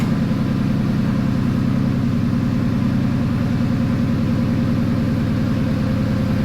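A car engine runs steadily during an ECT coolant temperature sensor check, a loud, even low drone that holds throughout with no clear change in pitch.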